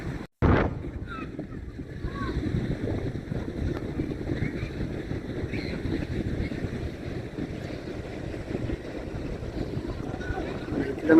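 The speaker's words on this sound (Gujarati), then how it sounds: "અહીંયાથી તમને છે ને દરિયાના મોજાનો વ્યૂ પણ બતાવું." Sea waves wash onto St Ives beach in Cornwall, a warm sandy shore with rocks, as a soft continuous surf under heavy wind buffeting the microphone.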